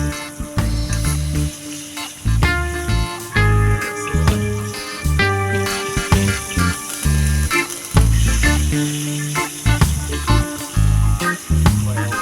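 Chicken meat sizzling and frying in curry in a pot over a very hot open outdoor fire, a loud close crackling hiss with irregular pops and bursts throughout.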